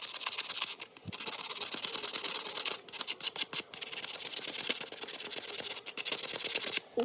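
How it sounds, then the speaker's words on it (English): Sandpaper rubbing across a piano key top to file it down, a close dry rasping scrape in steady strokes broken by short pauses. "You can use a file, or you can use an old piece of sandpaper. Sandpaper, I'm just going to file right here."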